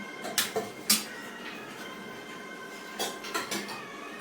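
A spoon scraping and clinking against a pot while serving kadhi at home, a few sharp metallic clinks in two short bursts with quiet pauses between.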